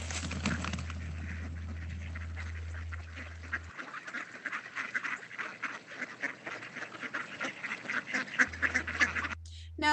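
Mallard ducks quack in a busy, overlapping chatter while being fed at a pond, near and fairly loud over a low background hum.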